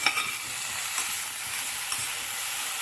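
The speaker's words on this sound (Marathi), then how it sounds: "हे ब्रोकोलीचा पुढचा पार्ट आहे, म्हणजे फ्लावर साईड, हे पण आपण परतून घेऊ" Broccoli florets sautéing in a hot pan for soup, a dense, even close sizzle with faint stirring scrapes and no talking.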